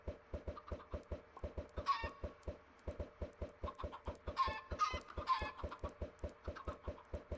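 A flock of spawned chickens in a survival video game, clucking in a steady rapid rhythm of repeated short calls with a few louder squawks, faint and with no talking.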